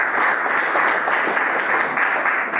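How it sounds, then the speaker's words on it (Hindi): An audience claps throughout a talk, and the dense, even applause carries on strongly with no break. "क्या सिकंदर के लिए तालियां।"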